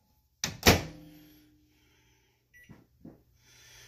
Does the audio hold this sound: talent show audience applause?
no